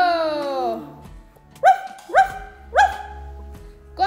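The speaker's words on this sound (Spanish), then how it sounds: "El perro." A dog barks four times in short, separate, fairly loud bursts, following a trailing descending tone, with no talking heard.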